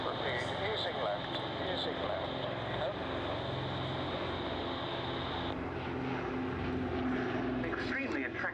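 A propeller aircraft drones overhead at an airshow as a camouflaged Dragon Rapide biplane flies in a pairing, steady and moderately distant with a tonal engine whine, under an announcer's commentary.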